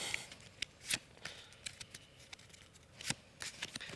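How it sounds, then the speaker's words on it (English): Playing cards are shuffled in quick bursts of soft riffling and snapping, close up and fairly quiet, with no talking. "now we're going to give it another little shuffle just to make sure there's no trickery?"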